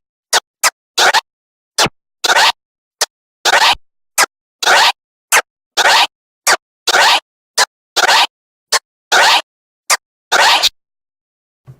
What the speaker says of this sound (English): you just open that fader very slightly and get a kind of a feathered, fluttery sound with the scratch